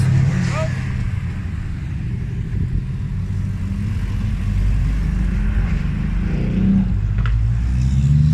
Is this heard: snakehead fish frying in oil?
no